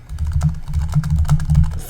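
Rapid, uneven keystrokes on a computer keyboard, recorded close while entering shell commands, with soft clicks arriving in quick bursts and steady low desk thumps beneath, no voices.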